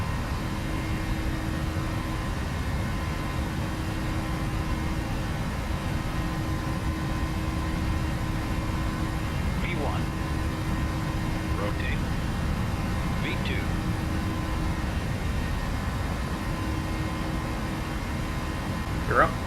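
Boeing 737 jet engines at takeoff thrust in the Prepar3D flight simulator, a steady loud roar with a constant low rumble and tonal whine, with brief chirps near the middle.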